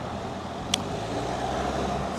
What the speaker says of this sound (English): there's lots of cars suddenly just happening here